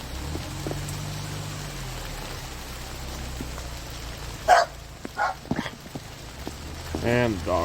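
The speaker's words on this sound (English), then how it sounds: "the dogs are going crazy" Dogs bark in short bursts toward the end, mixed with rain and wind as a storm rolls into Lake County, Michigan; a voice and other background noise sit underneath.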